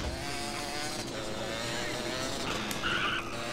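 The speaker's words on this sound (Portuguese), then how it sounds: "Deixa eu ligar aqui a moto." A motorcycle in the video game DayZ runs with a continuous, loud, steady engine drone and a rough whine throughout, with no clear start and no talking over it.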